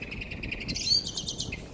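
A blackbird sings near Lincoln Castle, giving a short run of clear, fluting chirps and whistles that is moderately close and heard on its own, without talk.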